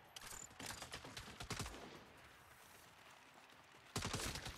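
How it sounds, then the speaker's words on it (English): Saints Row co-op game gunfire: a fast burst of shots at the start, another burst around the middle, then a final loud volley, all fairly close and loud with no talking. "I'm shooting him right now. I got him. Sniper down."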